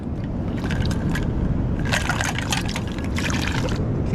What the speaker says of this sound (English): Just go get some water in this pot.